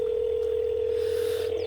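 A steady, unbroken phone ringing tone sounds during a call in Farming Simulator 22, a single loud sustained pitch holding throughout with faint background hum beneath.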